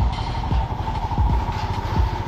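Royal Enfield Himalayan BS6 2021 motorcycle with oil-cooled engine running on a rough off-road path, a steady low thumping engine note with rattling clatter, close and fairly loud throughout.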